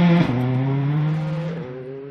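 Ewan Thorburn's rally car on a forest stage at the 2013 Trackrod Forest Stages: a loud, close engine holding a steady high drone, with a sharp dip near the start as the gear or throttle changes, then a second shift later.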